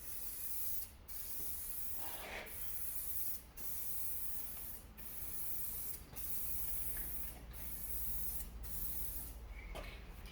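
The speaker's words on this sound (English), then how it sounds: "we're gonna spray paint that one to finish the video" An aerosol can of spray paint sprays in a steady hiss onto a car headlight, broken by short pauses at a regular rhythm, close to the microphone with no talking.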